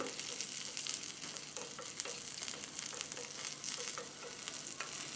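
A tempering of spices and lentils fries in a pan for curd chutney, giving a continuous crackling sizzle with small popping bursts and the occasional stir, close and steady, with no talk.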